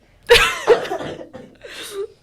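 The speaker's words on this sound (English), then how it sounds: "Actually, no, I'm just coughing." Two sharp coughs in quick succession, close and loud, followed by a softer throat sound and a brief breathy exhale.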